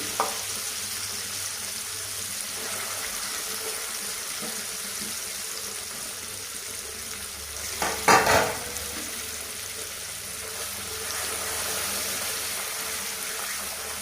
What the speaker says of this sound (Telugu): స్టవ్ ఆఫ్ చేసేసి పచ్చడిని వేసేయమండి